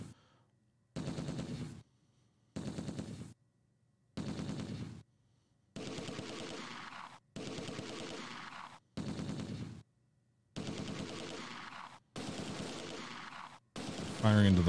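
Machine gun bursts crack out in Close Combat 2: A Bridge Too Far, about ten evenly spaced rattling volleys, each roughly a second long, separated by short silences and ending in a heavier thump.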